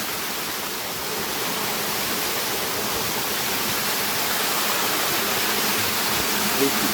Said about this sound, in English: Beyond waterfall, just above Hart Bay Beach.